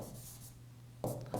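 Chalk or marker scrapes across a board during a physics lesson, a brief soft stroke followed by two sharper, louder strokes near the end, close and quiet with no speech.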